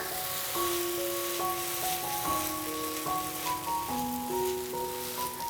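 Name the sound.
caramel dosa sizzling on pan after flipping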